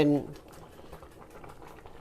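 A pot of bamboo shoot curry with mushrooms boils on the stove, giving a steady low bubbling and simmering texture that carries on throughout at moderate level, opening with a brief louder burst.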